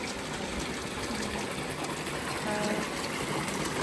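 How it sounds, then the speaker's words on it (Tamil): Water runs steadily into a tank at a home in Jaffna, Sri Lanka, a continuous close rushing gush that stays even and unbroken from start to finish. "தொட்டுக்கு தண்ணி வச்சு கொண்டிருக்கிறோம்"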